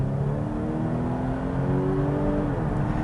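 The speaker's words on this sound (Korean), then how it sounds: "방금처럼 RPM이 급격하게 올라갔을 때" Volvo V90 CC mild hybrid engine revving under sudden acceleration, a steady, fairly loud drone with the pitch climbing and then easing off, heard close and alone.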